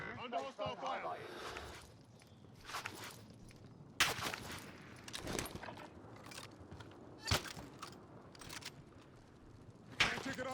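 Call of Duty Warzone Pacific gunfire on the Caldera map, sharp isolated shots cracking every couple of seconds amid quieter rustling and game voice lines.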